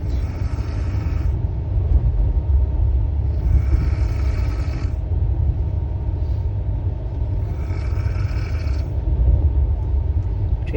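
A moving passenger train gives a steady, loud low rumble throughout. A brighter mechanical hiss rises and falls in three separate bursts over the drone.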